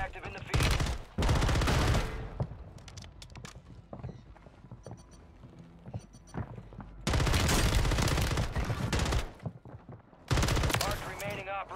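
RAM-9 submachine gun fire in Call of Duty: Warzone 3, with loud full-width automatic bursts around 1 s, 7 to 9 s and 10.5 s, and quieter game sounds in between.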